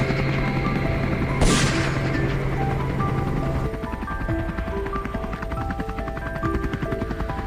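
A steady mechanical drone of a helicopter flying over farmland, with a thumping, chopping texture, continuous throughout at moderate loudness, with a brief sharp burst early on.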